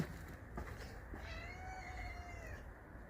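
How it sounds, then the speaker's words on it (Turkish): A single drawn-out meow from a kitten, faint and slightly distant, rises and falls over a noisy background. "bizim bahçede şey yavru kedi var"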